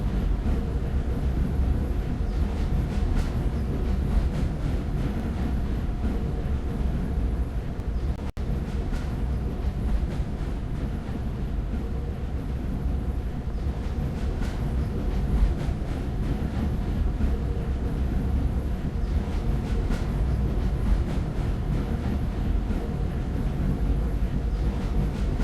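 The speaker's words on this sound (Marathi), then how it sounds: "तर मित्रांनो आपली रेल्वे पुढे चाललेली आहे" A train runs through a long underground tunnel in GTA 5, a steady, loud, continuous rumble that fills the whole stretch with no talk over it.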